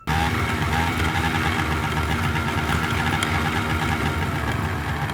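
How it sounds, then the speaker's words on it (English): Motorcycle engine running steadily at a rough idle, a loud continuous rumble with a fast throbbing pulse, close and alone throughout. "The vehicle hiding is a motorcycle."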